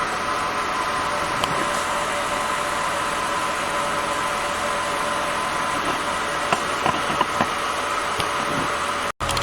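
A 2000 Acura 3.2 TL engine idles steadily after an oil change, a continuous mid-pitched hum with faint vibration and a few light clicks near the end.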